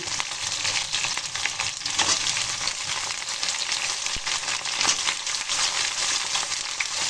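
Brinjal pieces and bottle gourd leaves frying in a pan, stirred through a constant close sizzle with intermittent scraping and clattering strokes, no one speaking.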